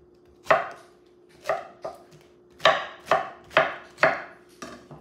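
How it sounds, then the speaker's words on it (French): A knife cuts through a pineapple on a cutting board, with seven or eight crisp, close chops at an uneven pace. Each stroke is sharp and then fades quickly, and there is no talking. "Ok, je vais découper mon ananas."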